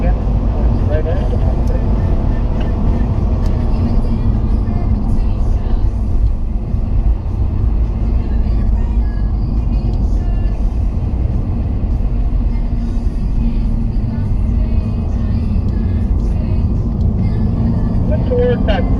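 A Mercedes C63 circling a race track gives a steady, loud engine rumble throughout, and a voice talks over it nonstop.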